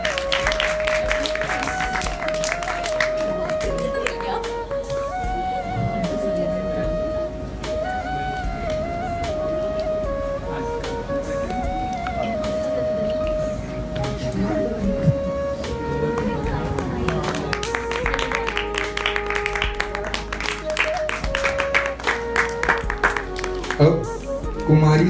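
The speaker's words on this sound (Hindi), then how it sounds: "उनके लिए भी जोरदार तालियां" Sustained applause from a crowd at a prize distribution ceremony, steady and dense throughout, with voices talking over it and a tonal hum running underneath.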